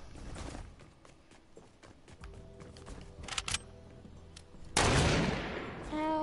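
Gunfire in a sniper shooter video game: scattered sharp shots and clicks build to a loud burst near the end, with faint talk in places.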